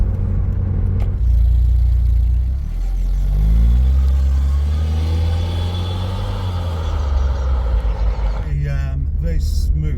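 A Vauxhall Astra Mk3 1.6 engine pulls hard on a kickdown, its throaty exhaust droning loud and close as the revs rise and fall, with voices talking over it inside the car.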